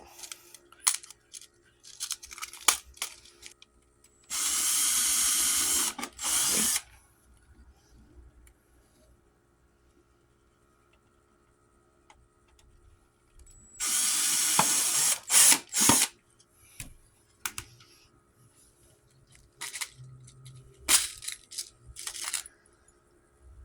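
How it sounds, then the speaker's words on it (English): An electric drill whirs in two sustained bursts of a couple of seconds each, separated by quieter clicks and handling noises, fairly close. "And I got my drill out."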